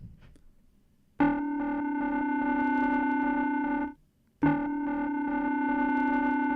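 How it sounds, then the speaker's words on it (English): A buzzy synthesizer tone from a Norand Mono mk2, two long sustained notes separated by a brief gap, each starting abruptly with a rich, harmonically dense timbre as a second oscillator fades in via envelope. "you can hear how oscillator 2 slowly comes in, because the mix knob is being modulated by the envelope"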